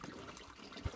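Water trickles steadily at a holy spring in the village of Zamytye during hard frost, a soft continuous flow heard close by with a faint thump near the end.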